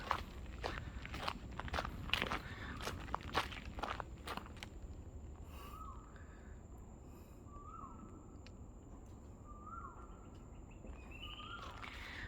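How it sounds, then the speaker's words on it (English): Crunching footsteps on forest ground at first, then a large black bird repeats a short, clear call several times at a steady pace amid quiet woodland ambience at MacRitchie Reservoir, Singapore. "Heard that bird?"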